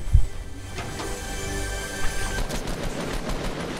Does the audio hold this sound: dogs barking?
no